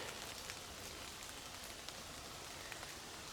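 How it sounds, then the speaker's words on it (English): Faint, steady rain patters on a surface, a soft continuous hiss dotted with occasional louder drops. "It's been raining all night, and it's raining pretty good"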